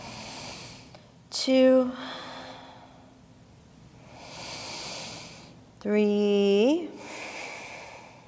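Two slow, deep breaths during a yoga stretch rise and fall in long airy swells between short spoken counts, each breath clearly audible and close.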